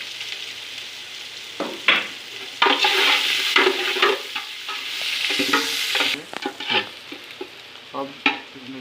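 Sliced onions frying in a pan for Saudi kabsa, browning lightly toward golden, crackle loudly and close with a dense sizzle, broken by repeated stirring scrapes and spatter bursts.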